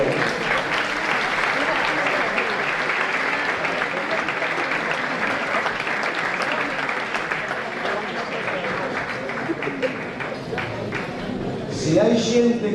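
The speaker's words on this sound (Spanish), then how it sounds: "Un aplauso para la gente" Warm, sustained applause from an audience at an Asturian Christmas folk music gathering, dense steady clapping filling the hall for over ten seconds before tapering, with voices mixed in toward the end.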